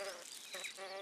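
An Osmia mason bee, a bright ginger-bodied solitary bee, buzzes close by in a short, steady, slightly wavering drone heard on its own.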